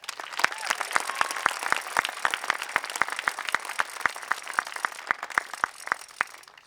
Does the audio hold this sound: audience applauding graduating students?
yes